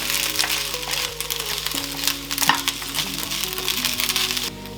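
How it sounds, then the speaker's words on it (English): Mangetout and udon noodles are stir-fried in a pan, giving a steady close crackle and hiss with occasional scraping clatter, over a faint music bed. "you can stir fry Mange with the noodle for like a few minutes again"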